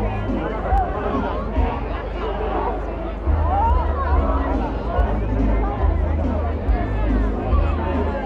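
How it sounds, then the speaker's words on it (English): Dense crowd chatter fills a busy town centre during Redditch's Christmas lights parade, a steady wash of many overlapping voices close by and all around, swelling slightly louder partway through. "certainly got a crowd here in the town"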